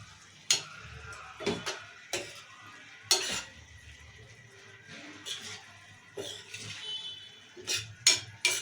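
Ivy gourd and moong dal curry with chili powder being stirred in a pan: sporadic metal spoon scrapes and clinks against the pan over a faint, quiet background.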